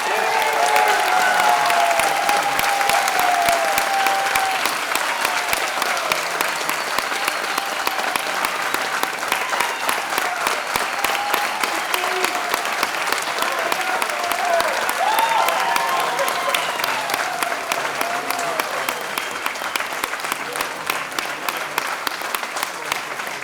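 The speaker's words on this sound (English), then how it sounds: "I invite all the people here in the room to congratulate our graduates with a big applause" Sustained applause fills a room at a Master of Science graduation ceremony, a loud, dense clapping of many hands that carries on steadily for over twenty seconds, with some voices mixed faintly underneath.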